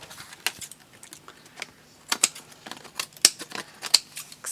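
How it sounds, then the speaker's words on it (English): Big long scissors trim around a stamped paper card, giving a quick series of crisp, close snipping clicks in irregular bursts. "Now I use my big long scissors for trimming around cards."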